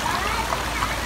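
Floodwater runs steadily into a garage area, a continuous close trickling and streaming wash with faint splashes and no pause.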